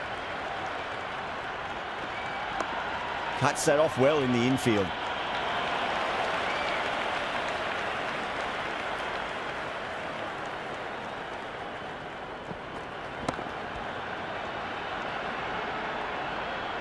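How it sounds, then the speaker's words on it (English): A stadium crowd cheers and applauds at a Pakistan vs Australia T20 international in the video game Cricket 26, a dense, steady roar that runs throughout beneath a commentator's voice. "It's almost palpable, the excitement emanating from this crowd at the moment."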